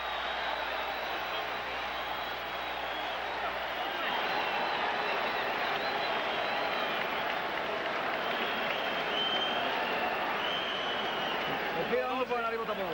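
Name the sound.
boxing crowd cheering on its feet at end of round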